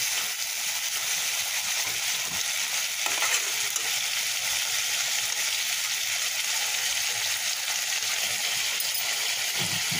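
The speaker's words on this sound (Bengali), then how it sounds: "আস্তে আস্তে নেড়ে চেড়ে মশলাটা ভালোভাবে এটার সঙ্গে মিশিয়ে দিতে হবে।" Fish being stirred and turned with spices in a frying pan, a steady sizzling fry that continues throughout with faint scraping, heard alone.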